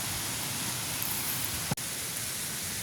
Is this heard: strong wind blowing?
yes